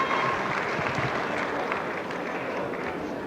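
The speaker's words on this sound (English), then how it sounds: "And a good appreciative round of applause for Abram Gumede." Audience applause at a boxing event for beaten boxer Abram Gumede: a dense, continuous wash of clapping from a large crowd, steady and even for the whole stretch, with a voice faintly over it.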